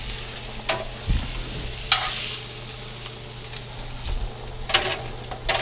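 Lamb chops sizzle in a cast iron pan, a steady, close frying hiss with a few louder spits and bursts as the meat is moved, and nobody speaking.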